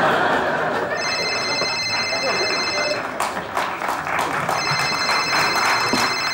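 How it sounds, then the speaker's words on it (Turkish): A telephone rings in two electronic bursts of bright trilling tone, separated by a short gap, over studio laughter and chatter in a Turkish comedy show. "Kusura bakmayın, telefon çalıyor."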